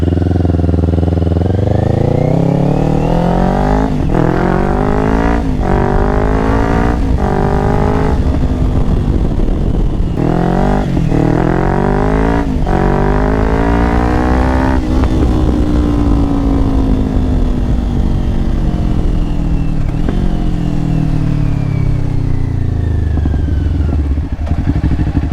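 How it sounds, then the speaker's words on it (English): A 2024 Kawasaki Ninja 500 SE with a Yoshimura AT2 full exhaust and no ECU flash revs repeatedly, loud and close, its pitch climbing and falling in surges with crackling pops on deceleration. "that's why you guys will hear a lot more of the backfiring."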